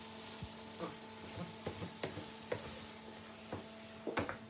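Frittata egg mixture with mixed ingredients sizzling in a hot pan while being scrambled: steady soft sizzle under a low hum, punctuated by repeated scraping and tapping of the utensil against the pan.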